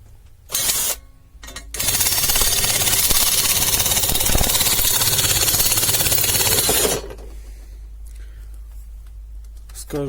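YT-160A sheet metal cutting attachment on a 1650 rpm cordless drill slicing sheet metal, a harsh continuous grinding chatter lasting about five seconds after a brief start, loud and close, with talk around it.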